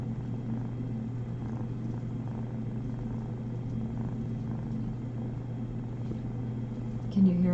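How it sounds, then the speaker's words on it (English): A rescue-center cat purrs close up, a steady low rumbling drone that runs continuously, with a brief bump of noise near the end. "Can you hear him purring?"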